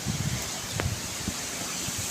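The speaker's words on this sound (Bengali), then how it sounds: "প্রচণ্ড হাওয়া বইছে, মেঘ করেছে খুব" Steady gusty wind rushes outdoors, with leaves rustling continuously throughout and a few faint knocks underneath.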